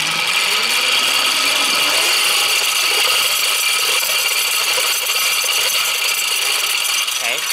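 A pedal-powered generator with its new gearing is rolled slowly by hand, giving a loud continuous ratcheting, clicking mechanical whir of gears that runs unbroken from start to finish.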